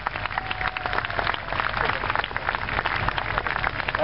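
An audience claps for volunteers at a Ruritania tank battle event, giving a steady patter of many hands that stays even throughout.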